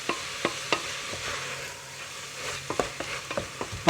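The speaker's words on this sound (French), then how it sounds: "Vous disposez les poivrons verts et poivrons rouges. Voilà. Vous mélangez tout." Green and red peppers for a homemade bolognese sauce frying in a pan under a gentle sizzle, with a utensil tapping and scraping in scattered clicks, close and fairly quiet.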